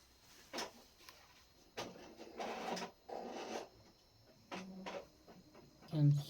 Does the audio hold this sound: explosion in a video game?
no